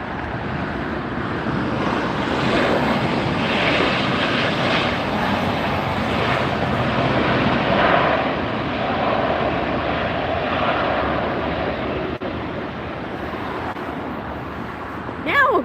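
An Alaska Airlines airliner on approach to land at LAX, a broad, steady jet roar that holds loud through the whole stretch under wind rumble, with faint voices talking nearby.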